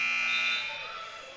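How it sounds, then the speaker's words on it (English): An electronic buzzer sounds during a girls' varsity high school volleyball match, a loud sustained tone that rings for about half a second and then fades away. "Looks like the buzzer went off"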